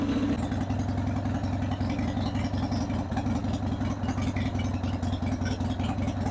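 Harley-Davidson 2000 Sportster motorcycle engine idling around 1,100 to 1,200 RPM, a close, steady low throb with an even rhythmic pulse and no talking.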